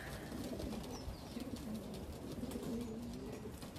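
Racing pigeons in a loft coo softly and repeatedly, a low, rolling murmur of several birds fairly close by with faint background noise.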